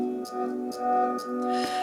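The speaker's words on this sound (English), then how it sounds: "shaker" Steady sustained synth pads and guitar tones with soft, bright rhythmic shaker swishes recurring about every half second, moderately loud.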